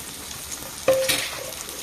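Onions dropped into hot oil in a pan, a sudden close sizzle and crackle that fades into a lighter steady fry, with a faint clink of utensil near the start.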